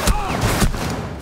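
Gunfire in the shooter game Rainbow Six Siege, a quick burst of several close, sharp shots within about a second, with a faint voice beneath.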